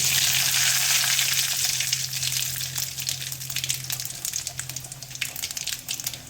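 Mustard seeds, cumin and dried red chili crackle and sizzle in hot oil as a tempering for sambar, a steady loud close-up frying hiss with scattered pops that thins slightly partway through.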